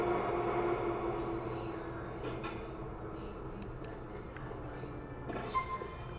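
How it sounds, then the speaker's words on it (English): Train ride in Grand Theft Auto IV: a quiet, steady rumble of rail cars rolling along, with faint clanks and squeals, no talk. "Did we really need to take the train?"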